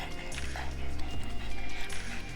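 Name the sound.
happy dog whimpering and yipping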